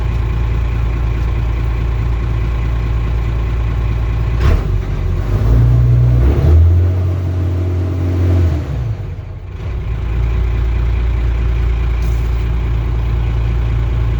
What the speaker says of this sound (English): I'm gonna rev her up.